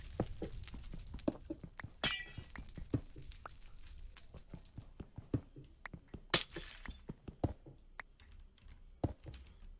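Repeated crisp glass-block breaking sounds from a Minecraft session, several sharp shattering bursts scattered among steady clicky keyboard-like tapping, fairly close and moderate in level with no talking.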